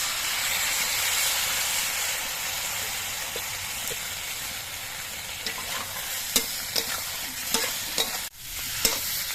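Cumin and coriander fry with a constant hiss and sizzle in a pan of spiced rohu-style fish masala, a spoon scraping and stirring in repeated soft strokes throughout.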